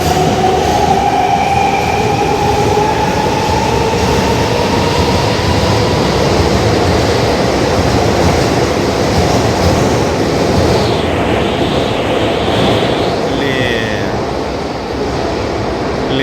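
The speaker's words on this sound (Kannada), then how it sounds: "ಓ, ಇದ್ಯಾವುದೋ ಸೂಪರ್ ಆಗಿರೋ ಟ್ರೈನ್ ಹೋಗ್ತಾ ಇದೆ" A train in Japan rushing past close by, near an airport station, with a loud steady roar of wheels on rails and faint squealing tones throughout and no talking.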